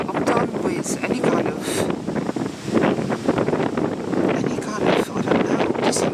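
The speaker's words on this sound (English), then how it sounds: "Very windy." Gusty wind buffets the microphone outdoors, a loud rumbling roar that rises and falls throughout, with a voice talking under it.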